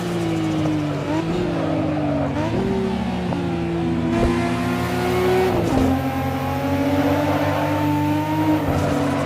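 Open-wheel race car engines in the Assetto Corsa racing game roar loudly down a straight, steady high revs with several rising pitch sweeps as gears shift, continuous throughout with no talk.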